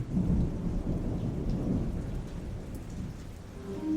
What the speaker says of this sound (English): Roland, the spring rains have become a thunderous storm.